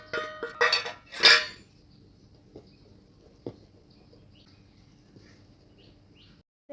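Cake batter is mixed in a bowl, opening with several sharp utensil clinks against the bowl, then settling into faint, sparse taps and near quiet.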